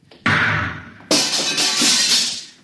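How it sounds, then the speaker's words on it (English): A door lock blasted open as a radio drama sound effect: two loud, harsh bursts, a short one followed by a longer crashing, sizzling roar that slowly fades, with no talk. "I'll have to blast the lock."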